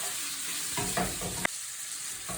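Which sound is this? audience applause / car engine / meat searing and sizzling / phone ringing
meat searing and sizzling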